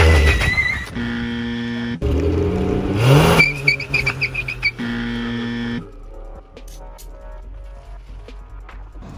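A Holden HT station wagon with a 186 engine revs hard in a burnout, the engine tone climbing and cutting in repeated bursts and stutters before dropping to a quieter idle with faint squeaks.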